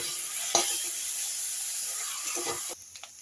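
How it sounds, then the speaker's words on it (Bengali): Ginger, garlic and green chilli paste sizzles in a pan with fried onions, a steady close hiss with a couple of sharp stirring clatters, ending abruptly into quieter crackle. "দেড় চামচ আদা রসুন কাঁচা লঙ্কা বাটা দিয়ে দিলাম। দিয়ে ভালো করে ভেজে নেব।"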